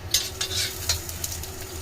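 Onion frying in a pan produces a steady close sizzle with a low hum underneath, broken by several sharp stirring scrapes at irregular intervals.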